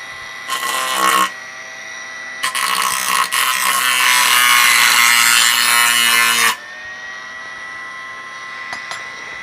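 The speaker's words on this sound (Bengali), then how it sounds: "দেখতে পাচ্ছেন কি সুন্দর একটি লোহা কাটা গ্যানি মেশিন হয়ে গিয়েছে।" A homemade DC grinding machine cuts iron with a loud, harsh whining screech in two sustained bursts, a short one and then a longer one, before the motor spins down to quiet.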